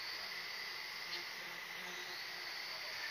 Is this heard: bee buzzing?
yes